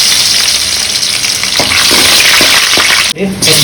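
Curry leaves and dried red chillies sauté in hot oil for a chicken drumstick dish, a loud, steady sizzle running throughout with a few scraping stirs and a brief sharp dip near the end.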